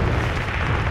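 Heavy gunfire in a shooter video game comes across as dense, continuous booming and blasts under a broadband roar, loud and close the whole time, with no clear voice over it.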